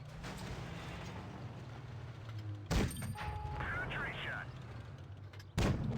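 Tank cannon fire in a video game: two heavy, booming shots several seconds apart, under a commentator's steady talk and quiet background game noise.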